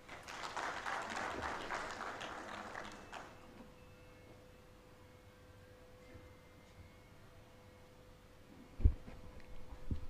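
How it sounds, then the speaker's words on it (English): Audience applause at a healthcare quality improvement conference, a dense burst of clapping for about three seconds that fades into quiet room tone, with a brief thump near the end. "Another round of applause"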